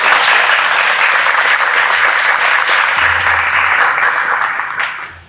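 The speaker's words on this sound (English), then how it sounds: "Can we give them a round of applause?" Audience applauding panelists at a Juneteenth commemoration, dense close clapping that holds strong then tapers off toward the end.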